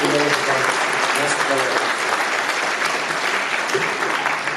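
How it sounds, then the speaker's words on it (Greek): Steady applause from an audience at a Greek club evening event, honoring a professor, filling the whole span at an even, fairly loud level with a murmur of voices under it. "Ένα χειροκρότημα για τον κύριο Στεργιούλη"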